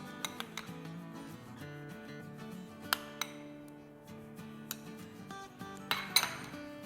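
A spoon clinks and scrapes against a bowl while boiled chicken is mixed with mayonnaise, quiet irregular taps and rattles with short sharp clinks.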